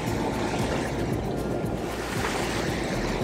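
Steady roar of wind and rushing water as a sailboat motors into big ocean swell off Nicaragua, dense broadband noise with low rumble and buffeting gusts, no voices.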